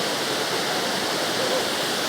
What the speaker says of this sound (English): So we were on our way to Netravalli and we just came across the Bamanbundo Waterfall.